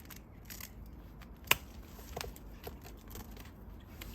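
Garden scissors snip at a sprawling plant, a few crisp close cuts, one sharper than the rest, amid soft rustling of leaves and stems.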